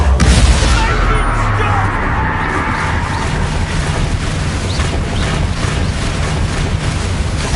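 Bombarda explosion spell cast in the Hogwarts Legacy game: a loud booming blast opens the clip, followed by a sustained roar of rumbling debris and combat noise.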